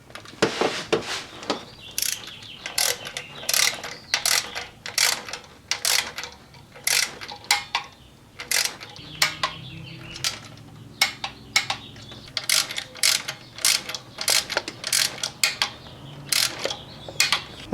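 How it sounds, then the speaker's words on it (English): A ratchet torques down the intake manifold bolts on a Chevy 3.8L engine. It gives rapid bursts of close, sharp clicking, repeated in quick strokes with short gaps between them, and no talking. "Okay, and now we torque them down."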